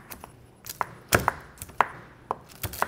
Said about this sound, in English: I'm taking our chicken thighs that we used for our chicken mole, and I'm gonna go ahead and chop all of this up